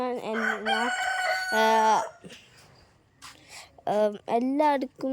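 A rooster crows close by, several long, loud calls in separate bursts with short quiet gaps between them.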